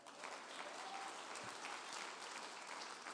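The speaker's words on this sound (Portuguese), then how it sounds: "As palmas para o Senhor." Congregation applauding during a church service, a steady, dense wash of clapping hands that fills the whole moment at moderate volume.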